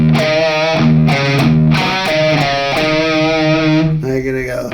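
Heavily distorted electric guitar plays a chugging hard-rock riff, loud and close, with palm-muted low notes moving in a driving rhythm and no talking.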